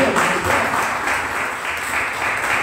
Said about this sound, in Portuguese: Você pode aplaudir o nome de Deus?